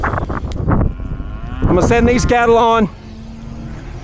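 Feedyard cattle in a Texas pen give a loud, drawn-out moo close by, following a stretch of handling noise and shuffling, with a low rumble continuing underneath.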